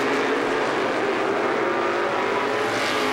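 350 supermodified race cars roar down the backstretch at Star Speedway, a dense, continuous engine drone at steady high pitch with no breaks, loud and close throughout.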